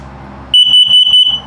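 A shrill carbon monoxide alarm in a 2021 Mesa Ridge 332RLS travel trailer chirps in a quick series of four sharp, loud beeps after a moment of quiet.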